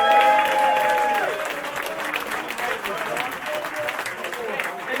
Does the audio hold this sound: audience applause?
yes